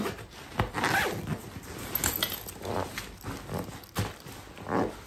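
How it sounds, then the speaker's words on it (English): A suitcase zipper is pulled in several rasping bursts of varying length, close by and fairly quiet, with soft fabric rustling between the pulls. "get the fabric out of the zipper's way"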